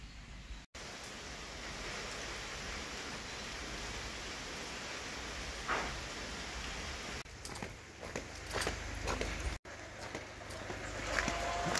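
Steady rain keeps falling in Jamaica after a hurricane, a constant broadband hiss with a few brief knocks and taps near the end.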